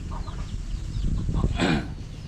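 A chicken and a limping chick cluck softly in a short burst of low bird calls, close by over a faint background rumble.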